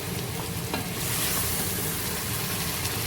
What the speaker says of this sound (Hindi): अब इसमें हम डाल देंगे अपने टमाटर की प्यूरी।